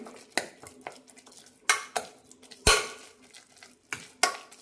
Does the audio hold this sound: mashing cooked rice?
yes